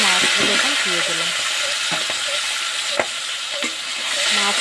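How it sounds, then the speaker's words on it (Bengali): Small kuche fish sizzling in hot oil, a loud continuous frying hiss with clinks and scrapes of a stirring utensil against the pan and a faint voice in the background. "তেলটা গরম হয়ে গেছে, মাছগুলো এখন দিয়ে দিলাম।"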